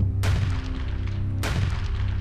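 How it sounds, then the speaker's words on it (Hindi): Two booming gunshots, a little over a second apart, each with a sharp crack and a long rumbling tail, rise out of a tense music bed in a Hindi news crime report. "रात के 2:30 बजे अचानक गोली चलती है"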